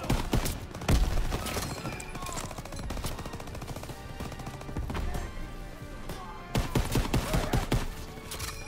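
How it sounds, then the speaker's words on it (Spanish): Machine guns firing in a Call of Duty WWII battle: dense, continuous rattling bursts of automatic fire with scattered heavier shots, loud and close, swelling again near the end. "¡No podemos avanzar con esas ametralladoras disparándonos!"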